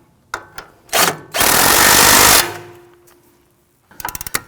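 A power tool tightens the sway bar end link on a 2001-2009 Volvo S60 front suspension: a few short close whirring bursts, then one steady loud run of about a second that winds down, and finally a quick cluster of sharp clicks.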